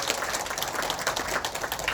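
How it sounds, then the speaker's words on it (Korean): A crowd at a community briefing claps steadily for a few seconds, dense and fairly loud, with no voices over the applause. "다시 한번 큰 박수 부탁드리겠습니다."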